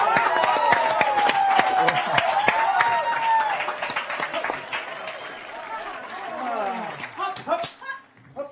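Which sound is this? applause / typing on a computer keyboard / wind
applause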